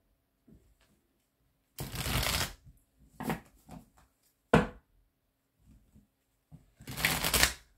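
Oracle cards being shuffled and cut for a tarot-style reading, heard as several separate bursts of riffling and slapping cards, close and fairly loud, with quiet gaps between them and no talking.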